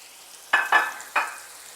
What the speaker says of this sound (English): This is sizzling, this is smelling good, and it's cooking.